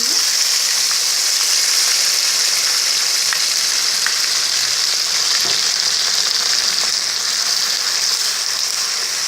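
Mustard paste sizzles in hot oil in a pan for a Mithila-style fish curry, a loud, continuous hissing fry that holds steady throughout with faint clinks and no talk.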